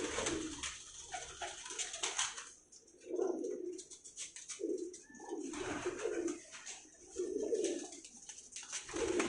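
Pakistani pigeons coo in repeated low, throaty phrases, close by, with short pauses between bursts over a faint background hiss.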